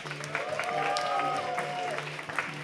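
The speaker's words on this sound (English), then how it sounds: "Big round of applause for all your action shot." An audience at a gong show claps under a sustained musical tone and some talking, the applause steady and moderately loud.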